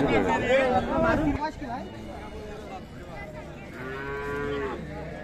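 A large Friesian cow with her calf lows loudly and close by at Raniganj cattle market in Dinajpur, then moos again a few seconds later, amid people talking and general chatter.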